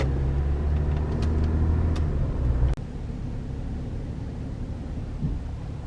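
A Honda car drives along a road with a steady engine rumble and tire roar close by. A brief clunk sits just before the midpoint, after which the cabin drone continues a bit lower.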